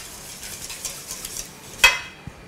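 Caramelized onions and lardons seasoned with nutmeg are stirred in a pan with a utensil, giving soft scraping and a faint sizzle, then one sharp clink against the pan near the end. The sounds are close and quiet, with no talking.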